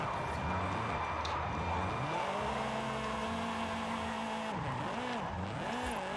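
Tires skid and squeal in long wavering tones as a 1993 Nissan 240SX spins out in Forza Horizon 5, with the engine droning steadily underneath and the squeal sweeping up and down near the end.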